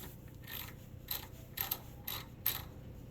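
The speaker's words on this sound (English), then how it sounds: "Go ahead and throw your ratchet on and spin away." A ratchet spins a short bolt fitted with a Snap-on rethread kit to clean the threads. It gives several separate bursts of quiet mechanical clicking, each about half a second long, with no voices.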